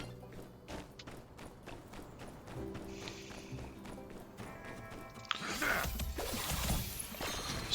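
Horse hooves clip-clop in the video game My Time at Sandrock in a quick, even rhythm, then give way to a louder, brighter burst of game sound near the end.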